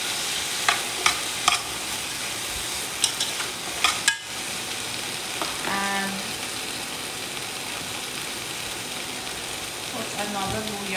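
Vegetables fry in an oiled pot, a continuous broad hiss of sizzling with scattered clacks and scrapes of stirring, a few sharp knocks early on and brief tonal squeaks later.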